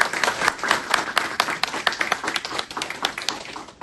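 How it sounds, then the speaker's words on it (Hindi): Audience applause at a bank's farmer outreach event at a horticulture training institute, with dense, steady clapping running close and fairly loud for the whole stretch, no voices over it. "जोरदार तालियां बजा के।"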